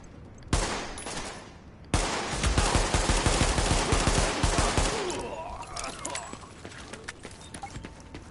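Gunfire in Tom Clancy's The Division firefight: a loud stretch of rapid overlapping shots starts suddenly, rattles on for several seconds, then thins out into scattered pops, with voices talking over the fighting.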